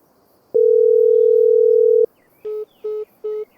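A phone call placed in a farming and trucking video game: a long steady tone holds for about a second and a half, then three short ringback pulses repeat evenly, with no answer and no voices.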